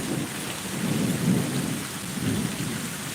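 Heavy rain pours steadily while deep thunder rumbles swell and fade in slow waves, a loud storm with no voices.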